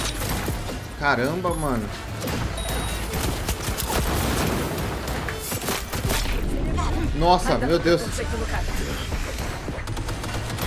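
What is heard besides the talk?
sniper rifle gunfire in the video game Cyberpunk 2077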